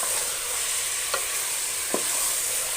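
Chicken, boneless breast pieces, frying in a pan with a steady close sizzle, broken by two brief scraping stirs; no talking.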